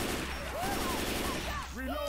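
Continuous rapid gunfire in Left 4 Dead 2, a dense, loud fusillade filling the whole clip, with a voice rising and falling over the shooting.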